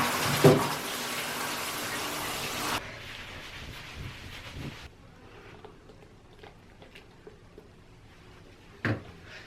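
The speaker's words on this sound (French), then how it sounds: "je vais juste me mouiller les cheveux" A shower runs onto someone's hair, a loud hissing spray for a few seconds that stops abruptly, followed by quieter dripping, small knocks and handling sounds.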